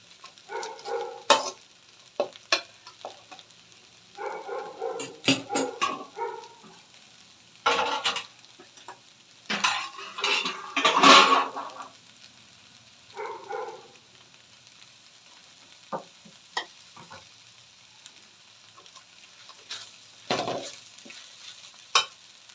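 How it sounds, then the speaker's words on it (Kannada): Repeated bursts of scraping and stirring as flattened rice is mixed with tempering in a pan, with light sizzling between strokes, irregular and close, separated by short quiet gaps. "ಅವಲಕ್ಕಿ ಎಲ್ಲ ಒಗ್ಗರಣೆ ಜೊತೆ ಬೆರೆಯೋದಕ್ಕೋಸ್ಕರ ಫುಲ್ಲು ಇದೇ ರೀತಿ ಎಲ್ಲ ಬೆರೆಯೋ ಥರ"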